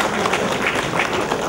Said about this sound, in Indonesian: Tepuk lagi, sekali lagi.